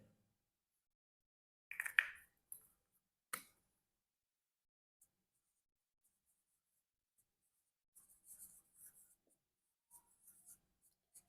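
Pen scratching across paper while working a ninth-grade math exercise, heard as a few short, quiet bursts of writing separated by long silences, with a louder scribble near the start and scattered light strokes later.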